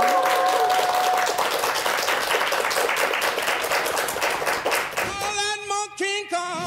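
Studio audience applause for a guest author on a Korean morning talk show, loud dense clapping that fades out near the end as music with a sung melody takes over.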